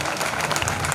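A brief burst of audience clapping at a village auction of religious offerings, dense and close with a crowd murmur underneath.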